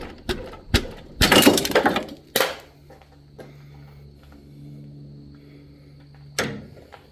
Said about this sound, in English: it was just the screw pulling out and my light falling and smacking the floor